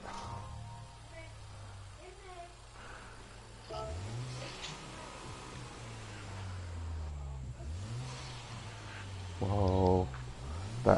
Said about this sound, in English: Whoa, that engine sounds nice.